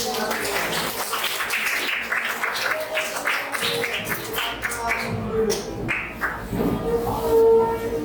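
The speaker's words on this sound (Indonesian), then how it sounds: "Oke, tepuk tangan dulu." Classroom applause from students at a school guidance counselor's session on managing emotions: scattered, uneven hand claps mixed with voices, moderately close, lasting several seconds.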